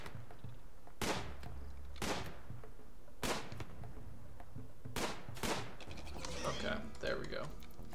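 Gunshots ring out in a video game during a firefight, about half a dozen sharp cracks spaced roughly a second apart, fairly quiet and distant, followed by a denser cluster of clatter.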